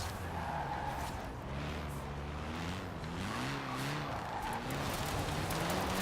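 An Abarth car drifting in Forza Horizon 4, engine droning steadily with wavering pitch as tires squeal through the slide, fairly close and continuous.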